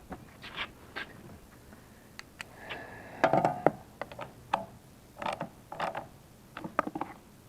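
Nuts are threaded and turned by hand onto the carburetor of a Chicago Electric portable generator, giving close, small metallic clicks, scrapes and rattles in irregular bursts with a brief louder clatter midway.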